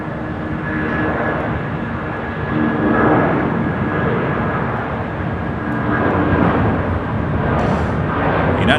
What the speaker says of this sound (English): United 757-300 rolling down the 25 right